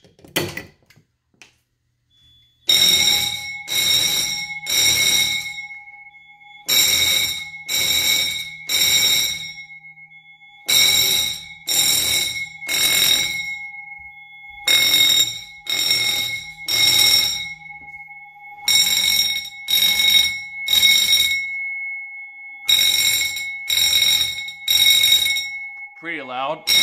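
Fire alarm bells ringing loud and harsh after a 270A glass-rod pull station is pulled, sounding in repeated bursts of about a second each, grouped in sets of three with short gaps, continuing steadily after a brief quiet start.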